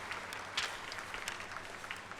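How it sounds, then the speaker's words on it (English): An audience applauds degree recipients at a university convocation, with steady hall-wide clapping at a moderate, fairly distant level and no talking. "All of you may please applaud for the degree recipients of Master of Planning"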